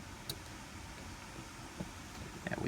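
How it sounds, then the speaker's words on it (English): Gusty wind noise outdoors on a windy afternoon, a steady low rumble with occasional buffets while small metal parts of a Spyderco Paramilitary 2 folding knife are handled, giving a few faint clicks. "Pardon the wind noise outside."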